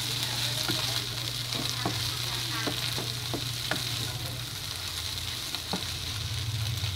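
Sisig with hotdog and liver spread sizzles loudly in a pan, scraped by a utensil in irregular strokes over a steady frying hiss, with no talking.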